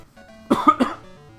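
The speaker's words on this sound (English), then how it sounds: "Man, I keep coughing" A person nearby coughs three quick times in a short, dry burst, then falls quiet.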